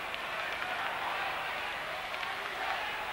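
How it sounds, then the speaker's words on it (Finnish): A packed crowd at an ice hockey match roars and applauds without letup, a dense, steady wash of cheering and clapping filling the arena. "Yleisö elää nyt ottelussa voimakkaasti mukana."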